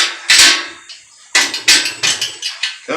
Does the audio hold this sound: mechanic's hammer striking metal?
yes